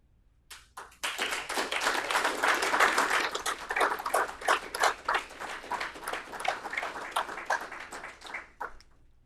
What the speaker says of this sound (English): Wow, that's a lot of round of applause